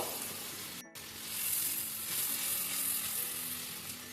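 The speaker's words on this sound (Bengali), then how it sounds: "এক চামচ রসুন বাটা সাথে ভালো করে নাড়বো আমি কিছুক্ষণ ধরে করতে থাকবো" Garlic paste frying in a pan for chicken bharta, a continuous close sizzle with stirring scrapes, briefly cut by a short dropout before the hiss resumes and swells.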